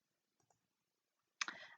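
A single computer mouse click, crisp and close, followed by a brief rattle of clicks and movement at a desk, with faint soft taps earlier in a quiet room.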